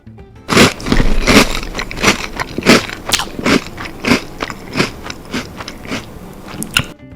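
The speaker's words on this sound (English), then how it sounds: "The crunch is subdued a little bit." Cap'n Crunch's Crunch Berries cereal is bitten and chewed close up, a series of loud, crisp crunches in a steady rhythm of about a dozen bites, with no talk.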